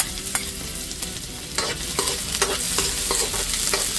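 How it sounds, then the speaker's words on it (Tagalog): Garlic and onion sautéing together in oil in a pan, a loud steady sizzle with repeated spatula scrapes and taps against the pan, close up and uninterrupted by voices. "Tapos gisa-gisahin lang natin hanggang sa mag golden brown yung sibuyas at saka yung bawang"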